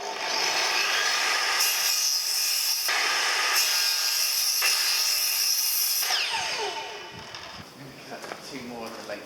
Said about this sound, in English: I'm going to go and clamp a few pieces together and cut them all at once on the table saw